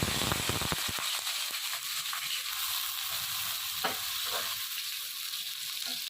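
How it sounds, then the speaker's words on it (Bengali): Chopped onions frying in white oil in a kadai until crisp and golden, a steady dense sizzle with occasional stirring scrapes, close and loud, without speech. "এখন আমি 1 কাপ পেঁয়াজ কুচি দিব। পেঁয়াজটাকে বেরেস্তা করে নিব।"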